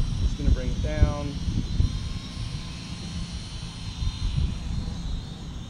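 A FORCE1 Blue Jay quadcopter drone comes down for a manual landing, its small rotors giving a steady, close, high-pitched whine beneath a person talking.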